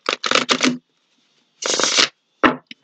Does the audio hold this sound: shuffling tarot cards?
yes